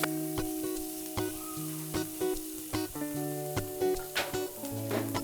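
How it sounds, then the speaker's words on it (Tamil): Greens and onion are stirred and sautéed in a pan, giving a steady soft sizzle broken by repeated clinks and scrapes of a spoon against the pan, fairly quiet with no talking. "இந்த வதங்கிறதுலையே அந்த கீரை நல்லா வேகணும், அந்த அளவுக்கு வதக்கிக்கோங்க."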